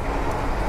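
Train running over a railway junction, heard from inside a moving economy passenger coach: a loud, continuous rumbling roar of wheels on track, brief and without voices.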